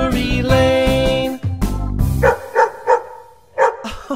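A dog barks several times in quick, loud, close yaps, following a stretch of bright sung melody in a children's song.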